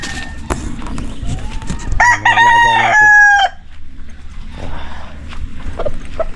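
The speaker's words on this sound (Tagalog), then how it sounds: "mga manok ito malapit na tumami siya mamangitlog pala" Chickens cluck and squawk nearby, one hen about to lay an egg, with one loud drawn-out rooster-like call in the middle and scattered clucks around it.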